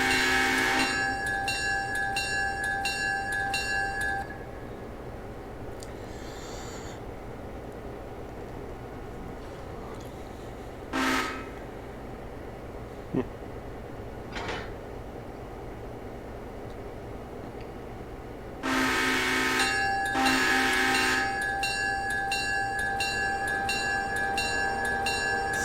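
Overnight freight train switching on a siding: a loud, continuous rumble and clanking of rail cars at the start and end, with quieter idling between and a few sharp metallic bangs.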